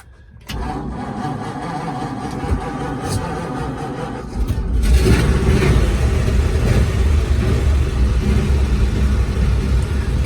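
A 1941 Ford pickup's engine cranks and catches, then settles into a loud, close, rough low rumble that steadies into a continuous running idle, no voices.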